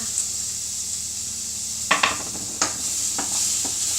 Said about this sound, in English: Give that a gentle stir because I don't want to mush those bananas up